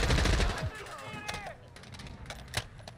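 Gunfire in the DMZ game mode: a loud burst of close automatic shots at the start, then scattered sharper cracks and single shots at varying distance, with a voice speaking briefly in between.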